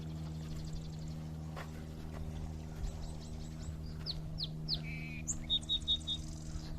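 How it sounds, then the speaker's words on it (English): A song sparrow sings a bright series of trills and clear repeated notes in a wetland, moderately distant, over a steady low hum of outdoor background noise. "What a beautiful little song. I think that was a song sparrow."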